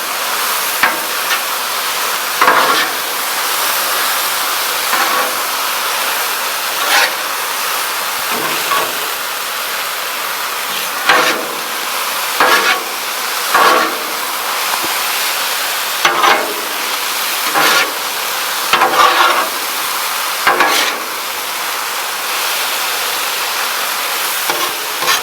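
Mushrooms and pork stir-frying on a very hot Blackstone griddle, a steady loud sizzle and hiss broken by repeated scraping bursts as the food is mixed, with no talking.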